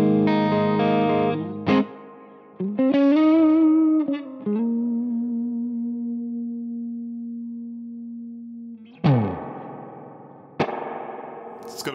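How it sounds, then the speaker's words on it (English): An electric guitar runs through an AmpliTube Mesa Boogie Triple Crown amp simulation on a fairly clean channel with reverb at half. Strummed chords and sustained single notes ring out with springy reverb tails that decay between the attacks. "Let's quickly check out the reverb. So that's the reverb."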